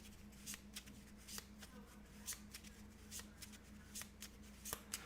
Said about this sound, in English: now we have to shuffle the unique deck because we just searched it